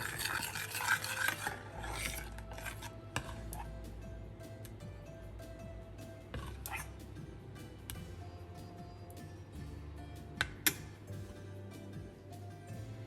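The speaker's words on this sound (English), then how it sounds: "mix that in until it incorporates and becomes one nice, smooth, velvety consistency" Butter being mixed into a smooth bechamel sauce for a Cretan bougatsa filling: soft, close stirring scrapes with occasional sharp utensil clicks against the pot, under a faint hum.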